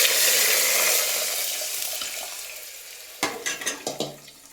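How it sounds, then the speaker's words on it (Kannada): A steady wash of water saved from boiling mung beans is poured into a pan and fades gradually, then a few soft clinks and stirring knocks follow near the end. No voices. "ಈಗ ಕಾಳು ಬೇಯಿಸಿರೋ ನೀರು ಸಪ್ರೇಟ್ ಮಾಡಿ ಇಟ್ಕೊಂಡಿದ್ದೀನಿ, ಅದನ್ನು ಇದಕ್ಕೆ ಹಾಕ್ತಾ ಇದ್ದೀನಿ"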